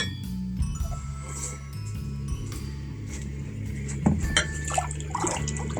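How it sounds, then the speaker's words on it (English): Glasses and cups are washed by hand in clean dishwater: gentle sloshing and splashing in a sink with occasional light clinks of glass, close and continuous, no talking. "your glasses need to be done in clean water because otherwise they will come out smeary"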